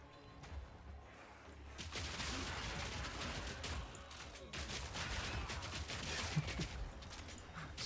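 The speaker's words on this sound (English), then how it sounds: "Just kind of run along, rapid firing as I go." Rapid firing in Path of Exile 2, a dense continuous barrage of quick shots and impacts running for several seconds with steady loudness and no clear pauses.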